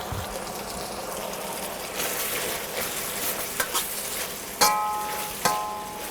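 Beef and snap peas stir-frying in a hot pan with sesame oil, a steady sizzle broken by scraping and stirring, then a couple of sharp clinks of utensil against the pan near the end, with no talking.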